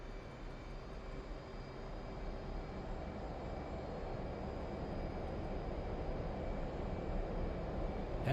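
An F/A-18 jet engine in DCS World roars steadily and broadband through a takeoff roll down a runway, a continuous loud rumble with no voices.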